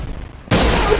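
A sniper rifle shot in the Roblox game Arsenal, a sudden loud blast that cuts in after a quiet background and rings on with a sustained, bright roar.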